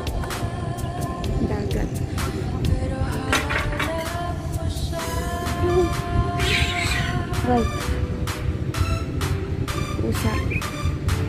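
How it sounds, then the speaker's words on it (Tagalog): Cats fighting and meowing at a science center in Kuwait, repeated yowls and caterwauls rising over a dense, constant background clatter and rumble, with no clear speech. "Yung pusa nag-aaway."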